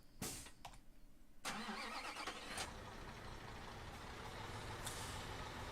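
A white truck's engine cranks and catches in a construction simulation game, with an air-brake hiss right after the start, then a steady mid-pitched idle that holds quietly to the end.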